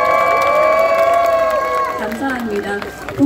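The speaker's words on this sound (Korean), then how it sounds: "그래 주실 분들만 큰 박수와 함성 부탁드리겠습니다." Festival audience at the Geumho River Baramsori-gil festival cheering and shouting with applause after a call from the stage, a loud sustained roar of many voices that thins out near the end.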